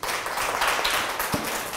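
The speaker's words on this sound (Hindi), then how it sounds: "एक ताली बजाएं, बहुत बढ़िया।" Schoolchildren in a healthy-eating lesson clap together on cue in a brief, dense burst of applause from a room full of hands. It is close and fairly loud, with one thump near the end and no speech over it.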